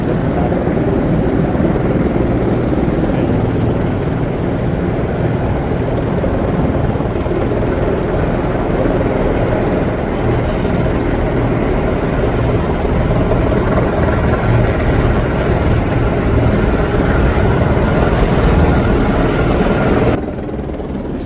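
A helicopter drones loudly and continuously near a university campus, its broad rotor and engine roar steady throughout with no talk over it, easing only slightly at the very end.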